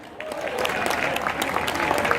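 A crowd at a Breton festival applauds, steady close clapping from many hands that holds for a couple of seconds.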